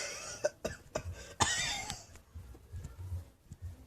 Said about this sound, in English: Oh no, you can't cough like that